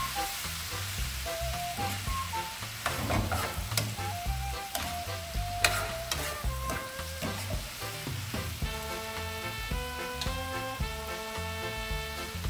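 Ginataang langka with sardines stirred and frying in a pan, a steady close sizzle with stirring scrapes running throughout, mixed with background music.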